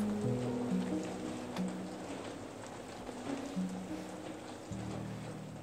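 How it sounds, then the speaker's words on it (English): Rain falls on the tin roof of a cabin, a steady soft patter of drops that continues unbroken, with low hum layered underneath and no talk. "soon we fall asleep to the soothing sound of raindrops hitting our tin roof"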